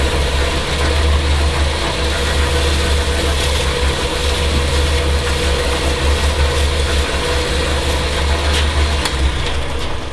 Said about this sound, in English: I'm just going to turn the lathe speed up, put some heat to it